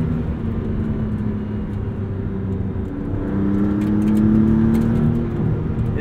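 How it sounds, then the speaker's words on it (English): A 2023 Maserati MC20 engine drones under load during canyon driving, a low steady hum that climbs in pitch as the car accelerates, with whirring turbo noises layered on top and no talk. "Still an evocative sound though, especially at low revs, and add in all the turbo noises."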